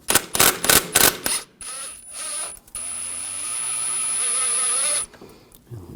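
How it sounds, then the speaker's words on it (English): An 11mm socket ratchet backing out a brake caliper bolt on a 2015-2022 Chevrolet Colorado, a burst of rapid loud clicks followed by a long sustained high-pitched whirring tone, close and alone. "we're going to use a 11mm socket. Take this bolt out."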